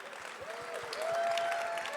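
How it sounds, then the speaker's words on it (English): A live audience at a gaming convention trivia show gives polite, steady applause, a dense patter of claps that swells slightly midway, with no talk. "Polite claps."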